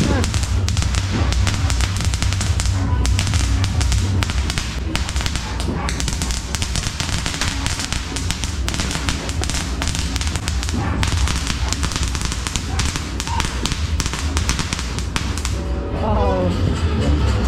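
New Year fireworks and firecrackers in New Zealand crackle in dense, rapid volleys of sharp bangs and pops that run continuously, loud and close, with people talking underneath.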